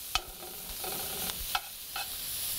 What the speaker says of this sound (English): And get that sauteing.